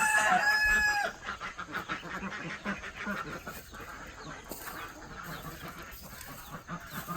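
A rooster crows loudly at the start, followed by a flock of chickens clucking and murmuring steadily nearby.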